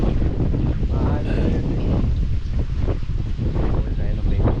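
Strong wind outdoors on a rural building site, loud continuous buffeting rumble on the microphone with gusty swells throughout, no clear speech over it.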